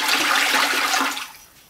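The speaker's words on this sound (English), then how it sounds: "Give it another quick stir." Liquid pottery glaze is stirred in a bucket, giving a brief, close swishing and sloshing that fades away after about a second, with no talking.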